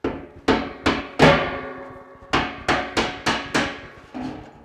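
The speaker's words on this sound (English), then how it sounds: "You just take a hammer and tighten them and loosen them." A hammer strikes a metal pipe fitting on an Ugly Drum Smoker nine times at an uneven pace, loosening it, each blow sharp and ringing before fading, loud and close with no voices.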